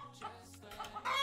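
A chicken clucking in the video game Chicken Catapult, short fowl calls over a quiet game background, brief and moderately faint.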